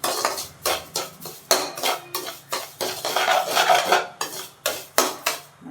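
Semolina roasting in a pan for kesari, heard as a rhythmic series of close metallic scrapes and clinks from a spoon stirring against the pan, roughly two strokes a second.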